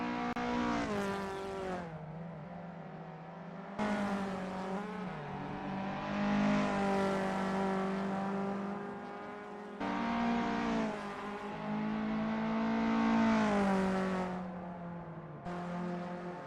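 Small race cars in the VW Up Cup during the final laps of an SRA 2025 race: loud, close engines rev hard, climb in pitch and cut off sharply at several gear changes, with no voices.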